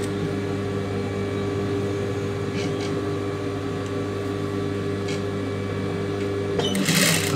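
A sewing machine stitches along the neck edge of a blouse, running as a steady close mechanical hum for several seconds before a brief louder rattle at the end, with no talking.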